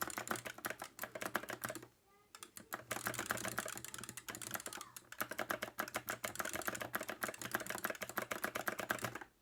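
Buttons on a DATA FROG Y5A arcade stick are pressed in rapid, dense bursts of clicky taps, loud and close, with one brief pause early on.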